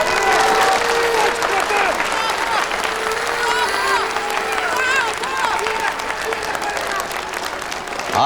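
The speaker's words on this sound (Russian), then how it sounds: "Я думаю, он заслужил эти бурные аплодисменты." An audience at a staged contest applauds enthusiastically with scattered cheers and whoops, loud and continuous for about eight seconds, with voices mixed into the crowd noise.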